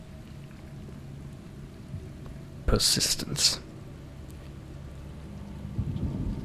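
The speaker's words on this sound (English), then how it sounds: "Autumn rain poured from the skies, crashing against bare trees." Rain and thunder in the video game Othercide: steady rainfall hiss under a sharp, bright crackling burst of thunder in the middle, with a voice speaking briefly over the storm.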